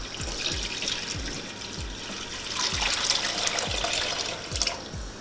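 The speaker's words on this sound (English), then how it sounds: "Then you're going to add 5 cups of water." Water pours into a pot of Hungarian goulash being cooked, a steady trickling splash with repeated low glugging pulses, close and moderately loud with no voices.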